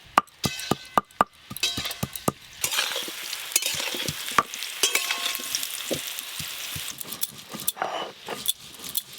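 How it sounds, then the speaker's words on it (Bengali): New potatoes fry in a pan while being browned, a bed of sizzling under a quick run of sharp metal clinks and scrapes from stirring, close and busy throughout. "এই আলুগুলো আর একটু লাল লাল করে ভাজতে হবে"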